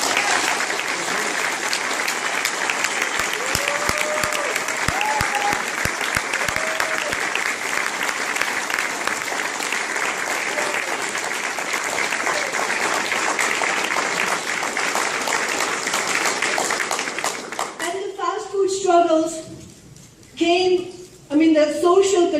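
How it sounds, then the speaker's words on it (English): A crowd claps for fast food workers in a long, steady ovation lasting about seventeen seconds. The clapping breaks off abruptly and a voice begins talking. "I really want to salute them with an applause."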